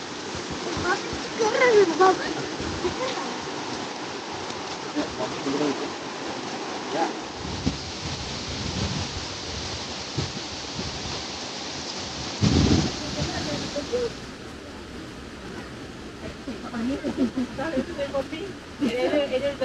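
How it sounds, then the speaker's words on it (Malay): Steady rain with splashing water, a broad continuous hiss that rises and falls, with a few louder splattering bursts partway through. "Hujan."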